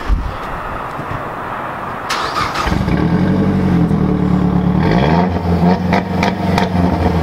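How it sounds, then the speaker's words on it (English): A MK4 Volkswagen Jetta 1.8T turbo with a front-mount intercooler idles gruffly, then its exhaust barks through sharp, loud revs and a rumbling hold, close up and without talk. "Trying to get an exhaust clip right now"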